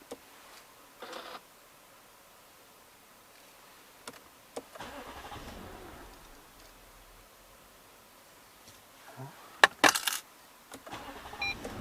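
A 2006 Lexus LS460 starts up: faint clicks, then a starter crank and the engine catching, followed by sharper mechanical ticks and a low idle, all fairly quiet.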